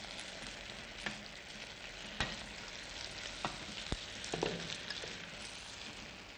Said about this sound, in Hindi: हमने ये जो बना लिए हैं इसके बॉल्स, इसको तेल में ओके, फ्राई कर देते हैं।